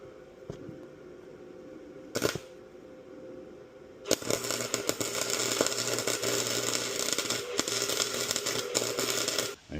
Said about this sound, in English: We're going to just try to weld these two pieces together.